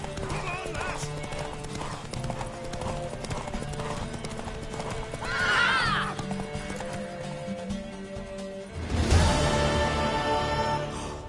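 Horse hooves clip-clopping at a gallop with a whinny midway and another loud neigh near the end, from The Witcher 3 video game, mixed with game music and voices talking throughout.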